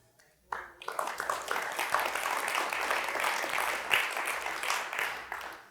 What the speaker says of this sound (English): You're applauding God